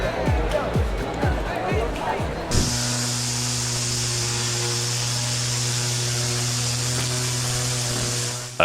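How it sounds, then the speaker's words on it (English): A string trimmer edges a lawn along a pavement with a steady, high-pitched motor whine that holds from the third second onward, after a burst of unrelated busier sound at the start. "A steady hand with a trimmer creates a clean, sharp boundary where the lawn meets pavement"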